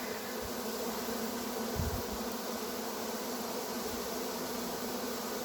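A large honeybee swarm, about four pounds of bees leaving a hive, hums in a dense, continuous buzz, steady and fairly close, with a few soft knocks underneath and no talking.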